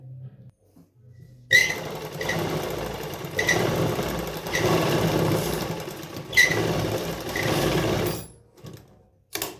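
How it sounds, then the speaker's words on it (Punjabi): Sewing machine stitching a seam while fitting a tight hip on a garment, running in several close bursts separated by brief pauses, with a mechanical whir and clatter that starts and stops. "ਦੇਖੋ ਆਪਾਂ ਆਹ ਸਲਾਈ ਫਿਟਿੰਗ ਵਾਲੀ ਇੱਥੇ ਲਾਉਣੀ ਸ਼ੁਰੂ ਕਰਾਂਗੇ"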